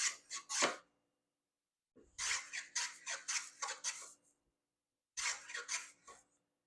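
A hand tool chamfers the edges of a wooden coaster in three bursts of short rasping strokes, close and fairly quiet, with silent pauses between the bursts.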